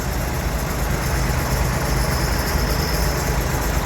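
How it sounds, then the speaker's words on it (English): Classic tractors on a charity tractor run sit idling close by, a steady, loud low-pitched engine chug and vibration that keeps going with no break. "Line of tractors all the way down there"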